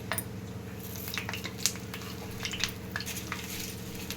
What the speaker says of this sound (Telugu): చూడండి, ఇప్పుడు నేను మెంతులు యాడ్ చేస్తున్నాను